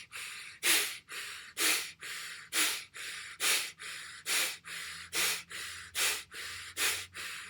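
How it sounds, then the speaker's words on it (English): Fire breath breathing exercise with forceful, sharp nasal exhales, about a dozen evenly paced bursts roughly every half second to second, close and breathy with no talking. "So activating through this fire breath, drawing the belly button in towards the spine on the exhale."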